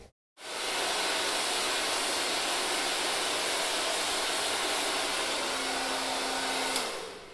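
A hair dryer starts abruptly after a brief silence and blows steadily at close range with a constant whooshing roar and a faint tonal hum.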